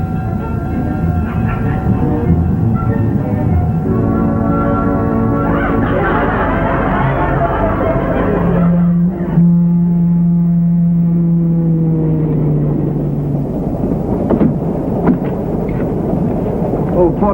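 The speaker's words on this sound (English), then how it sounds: "it's only the steam from the train." Steam train at a railway station, a loud continuous roar and hiss with sustained whistle-like tones rising and shifting, heavy rumbling underneath throughout.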